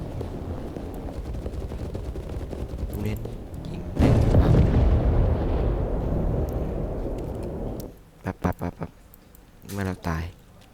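Heavy booms and bursts of gunfire from War Thunder tank battle gameplay, with a dense loud stretch of explosions and a few sharp shots near the end. Someone talks over the action.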